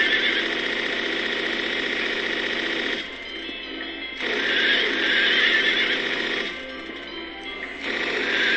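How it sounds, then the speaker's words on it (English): Submachine gun fire in Silent Hill 3 rattles in long, rapid, continuous bursts, broken by two brief pauses. "the SMG does a pretty good job of mowing down the carousel horses"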